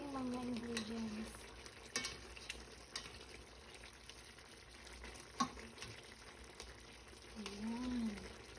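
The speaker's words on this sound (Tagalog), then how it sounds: "Baliktarin natin ang ating karne para siguradong manuot sa laman ng karne ang ating mga ingredients." Chicken adobo meat is turned in a pan, giving a soft, low sizzle with intermittent stirring scrapes and clinks, fairly quiet and without talk.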